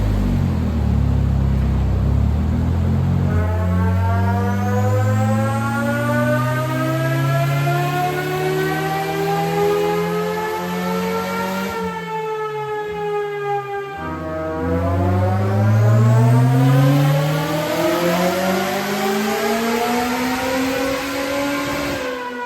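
Turbocharged 550hp Honda Civic Type R buggy on knobbly tyres revving hard on a dyno, loud engine climbing through repeated pulls with a brief drop to idle between sweeps, no talking.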